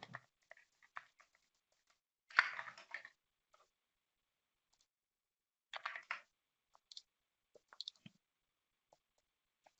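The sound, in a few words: typing on a computer keyboard and mouse clicking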